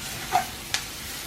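Stir-fry vegetables and shrimp being tossed in a hot wok, giving two brief, quiet scraping clinks about half a second apart over a soft background hiss.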